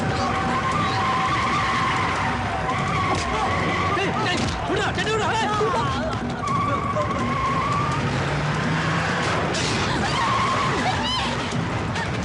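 A vehicle driving off in a film scene with loud, drawn-out tire skids over engine noise, dense and close, with voices shouting over the commotion.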